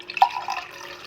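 Water is poured into a clean glass: a bright splash starts the pour, followed by a steady trickling fill that fades slightly, close and clear with no talk.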